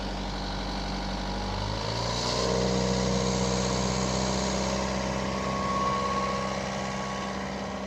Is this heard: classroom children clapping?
no